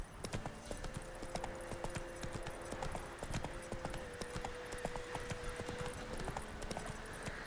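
Horse hooves clip-clop steadily in The Witcher 3 video game while riding, a loud, even rhythmic trot that runs throughout under a faint background.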